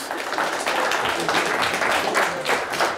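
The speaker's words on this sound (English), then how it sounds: "Nice round of applause for both teams." An audience at a high school quiz bowl match between Charlevoix and Carson City-Crystal gives both teams a round of applause, a crowd of hands clapping in a dense, fairly close patter, steady and fairly loud, without talk.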